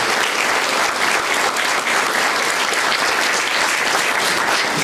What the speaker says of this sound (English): Let's have a round of applause again for all of our children.